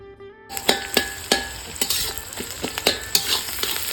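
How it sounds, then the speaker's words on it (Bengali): Spices being stir-fried in a hot pan give a constant sizzle. A spatula strikes and scrapes the metal in a quick, uneven rhythm of clinks, close and fairly loud. "তো এখন মশলাগুলো দিয়ে কষাবো"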